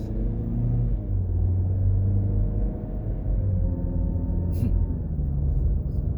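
A car drives along a road in Barbados, its engine and tyres giving a steady low rumble that holds at an even loudness throughout, with no other clear sounds.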